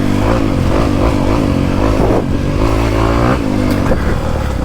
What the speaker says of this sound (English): That nice torquey engine.